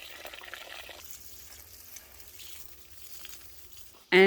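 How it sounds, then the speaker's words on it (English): A garden hose set to full but gentle flow soaks the roots of a cucumber plant, giving a steady low trickle and splash that runs throughout, with a sudden loud burst at the very end. "I just put it on full, but pretty gentle, and I soak the roots deeply for"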